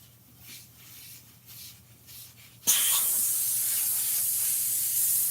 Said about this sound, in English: Shut the air compressor off